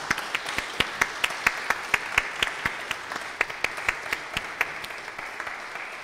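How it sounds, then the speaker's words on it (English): A church congregation at a Sixth Sunday of Easter service claps for first-time worshippers: a sparse, fairly close round of applause with distinct individual claps in an irregular rhythm, fading slightly toward the end. "We're going to clap for you, so it's not a horrible deal."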